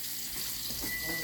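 Cold water running steadily from a kitchen tap over food in a pot, a close hissing rush that stays even and moderately quiet throughout.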